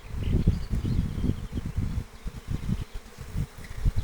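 Honeybees buzz steadily at close range during an acacia honey flow, a dense droning hum that swells and fades as they fly past, with no voices.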